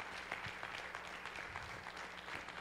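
Church congregation applauding, a dense steady wash of many hands clapping at a constant level for the whole stretch, with no voices rising above it.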